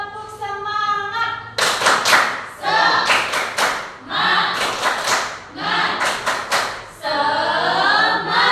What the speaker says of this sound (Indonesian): kita tepuk semangat terlebih dahulu yuk